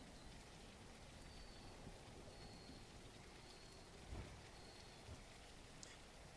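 Steady rain falls around the port on the Gateway map of the dinosaur survival game The Isle, a continuous soft hiss with a few faint drops and thuds, heard alone without talk.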